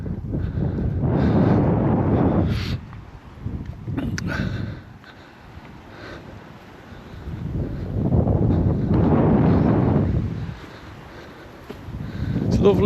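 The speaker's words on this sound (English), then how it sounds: "a bit windy" Gusty wind sweeps across open English countryside at the Towton battlefield, buffeting the microphone in two long roaring surges with a calmer lull between them.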